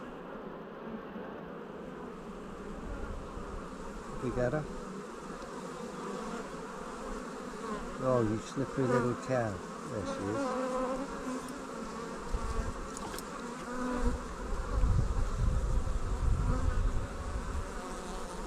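Thick, continuous buzzing of honey bees around an open hive while a queen is found, the swarm loud and close, with a voice cutting in briefly and handling noises during a split.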